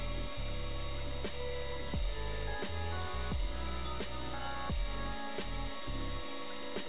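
A CNC mill gives a steady machine whine with rhythmic scraping and cutting noises, repeating every second or so as it cuts out a circuit board nearby.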